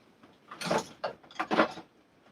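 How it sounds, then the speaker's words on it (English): Metallic clicks and sliding scrapes of a bolt being pushed into an old Savage rifle, two short close bursts of mechanical rattling with a brief pause between them. "let's get this bolt in"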